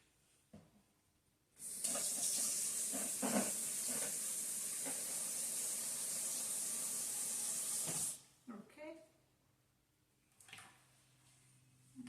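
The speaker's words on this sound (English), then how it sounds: "Let that soak in some hot sudsy water while we're finishing off." A kitchen sink fills with hot, sudsy water to soak a pan, a steady, loud hiss of running water for about six seconds that then cuts off, followed by a few soft clatters.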